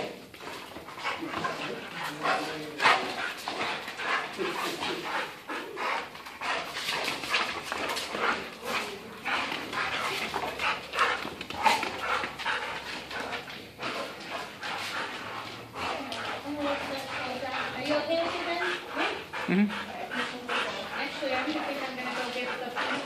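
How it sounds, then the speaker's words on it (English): Two dogs whimper, pant and yip almost nonstop, with occasional barks, under people talking nearby. "Two dogs."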